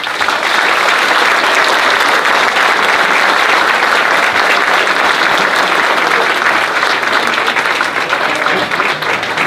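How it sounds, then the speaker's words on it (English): Dense, sustained audience applause at a political candidate forum in Pinellas Park, loud and continuous from a packed room with no talk over it. "Let's give them all a round of applause."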